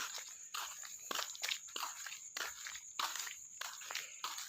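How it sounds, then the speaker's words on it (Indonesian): Footsteps walking through a quiet village at night, a steady rhythm of soft crunching steps close by, faint and without talk. "cuman suara apa? Langkah kaki kita."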